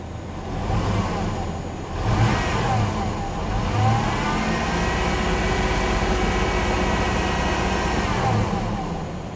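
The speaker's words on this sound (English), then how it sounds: "Let's rev it up and watch that number change." A car engine revs up from idle, rising and falling in pitch in a few surges, loud and close, with a steady running drone throughout.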